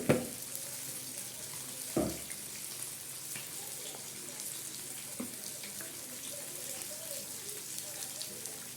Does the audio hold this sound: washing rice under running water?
yes